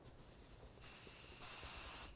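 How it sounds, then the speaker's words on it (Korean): Hairspray sprayed onto styled hair at a salon, three short hissing bursts of aerosol mist in quick succession, each a little louder than the last, close and clear with no talking. "이런 식으로 스프레이를 뿌려서"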